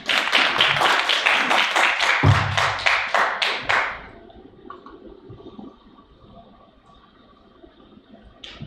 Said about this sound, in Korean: 박수 맞아주시기 바랍니다.